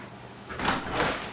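A door swings open in a few quick, broadband creaking and rustling bursts over a second, close and moderately loud, with no talk.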